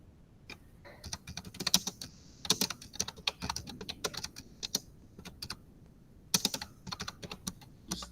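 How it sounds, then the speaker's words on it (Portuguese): Rapid clicking on a computer keyboard during a group class session on computational thinking, with bursts of keystrokes and short pauses, close and clear with no speech over it. "Alguém tá digitando ou querem que eu digite?"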